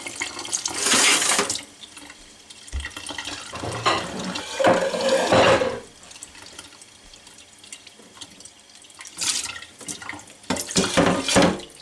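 Tap water runs in bursts over cottage cheese curds being rinsed, loud splashing gushes separated by quieter pauses where only faint dripping and handling sounds remain, with no voices.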